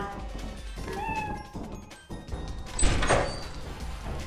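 Cat meowing inside the video game Lethal Company, a short mew around the middle under game ambience and a door-like clatter, with players talking nearby.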